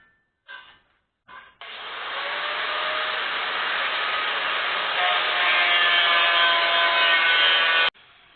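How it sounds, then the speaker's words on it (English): A grinder clears a metal area before welding on a homemade motocross ramp: two short bursts, then a long continuous high, gritty whine that holds steady and close for several seconds before cutting off abruptly. "now I'm going to take the grinder again and just clear all this area out first, so I can get the best weld I can get"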